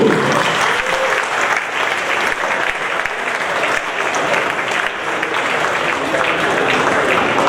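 Steady, dense clapping from a large audience at a tournament opening ceremony, continuous and loud for several seconds with no pauses.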